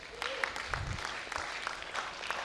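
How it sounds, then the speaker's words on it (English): Scattered, fairly faint clapping from an audience at a school debate competition semi-final in Lae, steady for a couple of seconds. "So a round of applause for all our support sponsors."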